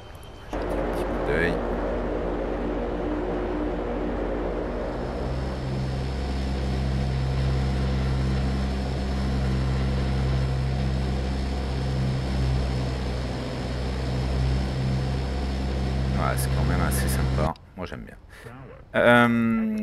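An airplane in the World of Airports mobile game rumbles with a steady, loud engine drone and rising whine as it takes off, continuous for most of the stretch before cutting off near the end.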